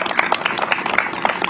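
A small crowd at a Pride flag raising ceremony claps for city workers in a brief, uneven burst of individual claps, fairly close.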